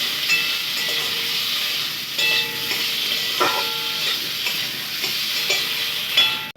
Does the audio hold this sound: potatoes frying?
yes